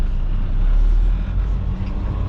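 A truck hauling a long trailer pulls out in first gear, its deep diesel engine droning loudly and steadily up close with a slight rise in effort.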